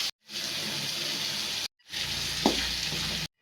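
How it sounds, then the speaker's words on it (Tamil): Ground masala and soy chunks sizzle and fry in a hot pan for a vegetarian mutton-style gravy, in two steady bursts of loud close frying with a brief stir scrape, and no talking. "இப்போ இது கூட நம்ம அரைச்சி எடுத்து வச்சுக்கிற மசாலையும் சேர்த்து நல்லா வதக்கிக்கலாம்."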